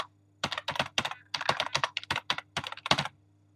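Fingers typing on a computer keyboard in short bursts of close, crisp keystrokes with brief pauses, alone over a faint steady hum.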